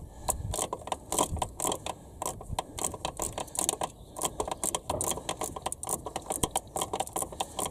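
A 3/8 ratchet undoes a bolt on the high-pressure fuel pump of an Audi A3 2.0T 8P. Rapid, close, repeated metallic clicking comes in quick bursts with brief pauses, and no one speaks over it.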